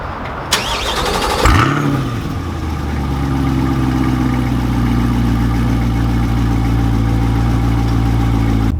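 A Chevrolet LT2 6.2-liter naturally aspirated V8 starts with a sharp crank and bark, then settles into a deep, steady, rumbling idle, close and loud with no one talking.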